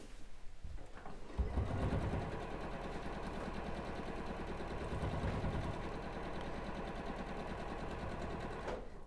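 A sewing machine stitches quilt rows together for a bird-and-bee themed quilt, running steadily at close range after a brief quiet start, its fast rhythmic whirr continuing almost unbroken to the end.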